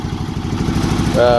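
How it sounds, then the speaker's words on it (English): Engine on a Lucas dedicated slabber sawmill (DSM23) warming up: a steady, close, mid-pitched rumbling idle with a clattering throb, and a higher whine rising near the end. "We gotta get the engine warmed up a little bit."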